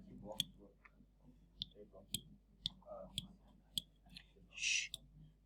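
Quiet, sparse clicks of calculator buttons being pressed one at a time in a classroom, irregular taps at close range with soft whispering and a brief hush.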